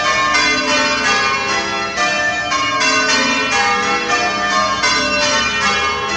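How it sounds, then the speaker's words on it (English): Church bells of St Andrew's Church, Plymouth, ring loudly and continuously, overlapping peals in a steady rhythm with no talking. "Oh great, just started the bells again."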